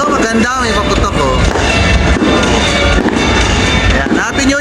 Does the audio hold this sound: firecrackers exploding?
yes